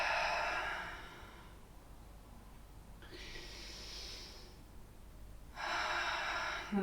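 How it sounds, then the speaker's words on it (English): Deep, slow breathing during a power yoga session, with a long hissing exhale, a pause, then a drawn-in breath and another exhale, close and quiet with no talking. "2 deep breaths here."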